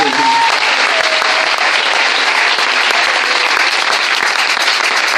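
A church congregation applauds loudly and steadily, a dense, continuous wash of many hands clapping that fills the space with no pauses.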